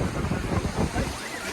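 Surf washes in continuously on Varsoli beach in Alibag, a loud broad rush of water mixed with strong wind buffeting the microphone.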